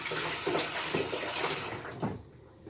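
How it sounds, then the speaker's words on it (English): Water runs steadily from a kitchen tap while messy hands are washed, a close continuous rush with small splashing changes, cutting off near the end and leaving a quiet tail. "If your hands get messy, go ahead and wash it off."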